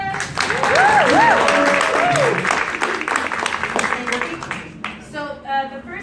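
Enthusiastic audience applause for a Tejano singer at a music convention panel, sustained clapping with cheering and whooping voices rising over it, tapering off near the end.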